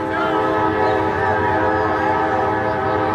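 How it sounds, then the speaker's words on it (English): A freight train sounds its horn in a sustained, loud, multi-tone blast over the rumble of the passing cars. "Yes, it was a freight train."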